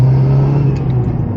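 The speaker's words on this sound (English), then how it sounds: "I could hear the transmission directly now. It's whining a lot louder" A modified Mazda Miata runs with a steady low engine drone, and a loud, constant transmission whine sits on top of it across the short stretch.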